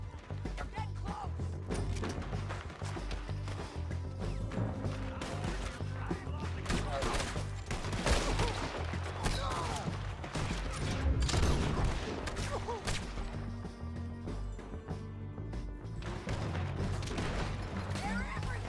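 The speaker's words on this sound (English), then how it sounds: "Keep shooting." Gunfire in a shootout in the Red Dead Redemption 2 video game, with dense, continuous cracks and booms over a busy game soundscape and background music for the whole stretch.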